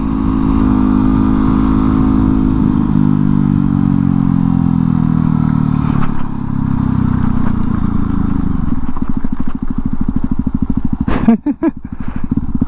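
A Yamaha WR250X supermoto motorcycle ridden on dirt gives a loud, steady engine drone that shifts in pitch as it runs, with a burst of clattering near the end.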